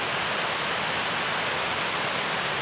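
Waterfall at Silver Falls State Park roars as a dense, steady broadband rush of falling water, loud and unbroken with no voices.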